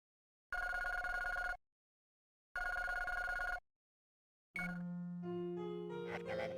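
A telephone rings twice in the game Flower, Sun, and Rain, each ring a loud, even, one-second trill with silence between. Then an electronic chime or tone sequence comes in.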